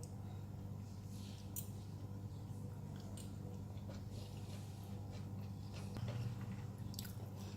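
Someone chews tender sweet and sour pork close to the mic, with quiet, moist bites and squishy chewing over a steady low hum, and no talking.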